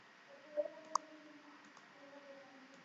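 A computer mouse clicking while working in structural design software, producing a couple of soft, close clicks and then a single sharper click over a quiet, faint background hum.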